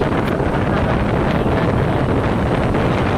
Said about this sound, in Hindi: बहुत ही तेज हवा चल रही थी, आप लोगों को आवाज़ भी आ रही होगी इतनी तेज यहाँ पर हवा।